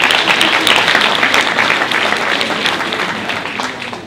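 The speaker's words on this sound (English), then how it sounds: "I think you deserve a round of applause for that." A crowd claps steadily in dense, sustained applause, fairly close and loud, tapering off slightly toward the end.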